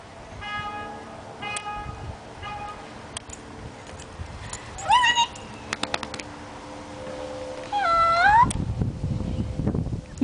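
A young puppy whines in short, high, rising cries, with two louder drawn-out whimpers standing out against quieter background noise.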